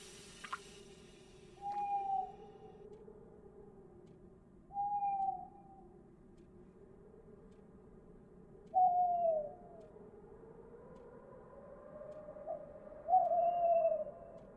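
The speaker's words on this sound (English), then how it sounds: "Shut up, owl." An owl hoots in the horror video game Frosty Nights, four separate clear hoots spaced a few seconds apart over a low, dark ambient rumble, fairly close and distinct.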